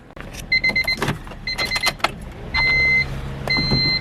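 A Honda EK hatchback with a B20B engine: warning chimes beep repeatedly, then the engine cranks and catches after about a month unstarted, running with a steady rumble as the chimes continue.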